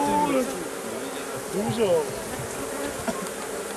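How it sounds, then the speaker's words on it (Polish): Honeybees swarm and buzz steadily around an opened hive during a beekeeping workshop, a dense continuous drone close by, while people talk over it. "Pszczoły zasłaniają."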